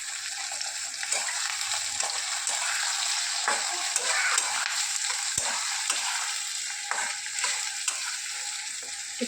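Chopped green chilies and tomatoes sizzle and fry steadily in a hot pan, with a constant close hiss and occasional stirring taps and scrapes; no voices.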